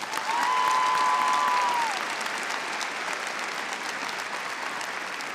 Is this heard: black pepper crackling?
no